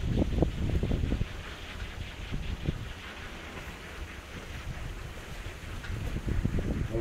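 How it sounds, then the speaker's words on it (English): Gusty wind blows past a DIY wind generator built from a 24-volt e-bike hub motor, roaring and buffeting the microphone in uneven waves, with no talk. "The wind's still coming."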